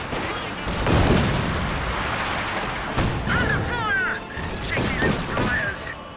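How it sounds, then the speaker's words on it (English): Anti-tank guns fire in a WWII strategy video game, heavy booming shots landing amid rumbling explosions and battle noise, with fainter whining effects and a voice partly audible beneath. "AT gunshots coming in on the second."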